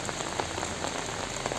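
Heavy rain pours steadily by the Canoli canal, a dense, even hiss of drops striking surfaces close by, with no voices.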